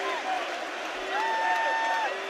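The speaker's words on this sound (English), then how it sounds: "it is Carl Frampton who takes the applause of this Belfast crowd" A Belfast boxing crowd applauds and cheers home fighter Carl Frampton, a steady wash of clapping and voices filling the arena, with a commentator talking over the top throughout.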